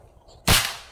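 A single sharp air rifle shot fires at a target on a shooting range, a loud abrupt crack with a short decaying tail after near silence; the rifle is a freshly re-springed PRNB GCmag tuned to about 950 FPS.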